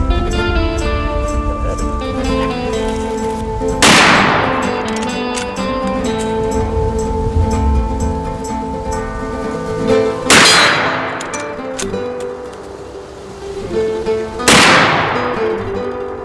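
Rossi R92 lever-action rifle in .44 Magnum firing three loud, sharp shots spaced several seconds apart, over a sustained ringing, clanging background.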